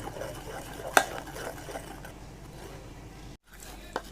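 A spoon stirs a multani mitti soap mixture in a bowl, giving soft scraping and dull clinks, with one sharper tap early on and a quiet, steady swirl throughout.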